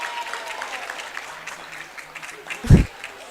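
Crowd applause rises in a stadium during a women's Foz Cup final football match, a soft wash of clapping beneath a commentator's voice, broken near the end by one brief dull thump.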